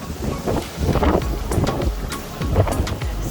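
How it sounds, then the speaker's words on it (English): Strong wind buffets an anchored sailboat in a protected anchorage, a steady rushing roar with gusty low rumbling and brief sharper bursts, close and loud, with no talking. "Pretty windy."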